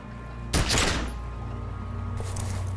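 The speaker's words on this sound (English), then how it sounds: "You hear an explosion within the weapon in your hands." A single pistol shot goes off in the Disco Elysium video game, one sharp loud blast with a brief rumbling tail that fades into a steady low hum.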